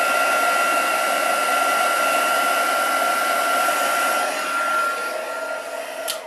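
Heat tool blasting air to dry a handmade card, a steady loud whooshing roar with a constant motor whine, close and continuous, easing slightly toward the end with no talking.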